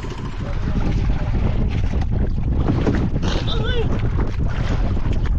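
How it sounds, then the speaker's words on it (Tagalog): Amihan, the northeast monsoon wind, blows at sea near a boat in a steady, loud roar buffeting the microphone, with faint talk underneath. "Medyo umihip-ihip na naman yung amihan mga bay."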